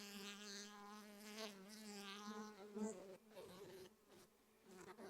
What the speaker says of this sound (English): Those bees are on the microphone, so they're probably buzzing hard